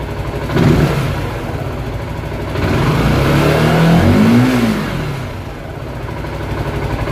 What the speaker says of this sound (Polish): Ładnie równo wchodzi na obroty.